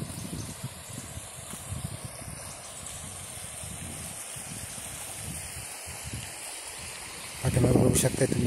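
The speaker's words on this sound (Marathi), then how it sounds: "हा खळखळखळ असा वाहणारा ओढा" A small stream in a farming village flows past a road between green fields, a steady gurgling rush that swells louder near the end, heard outdoors at a moderate distance.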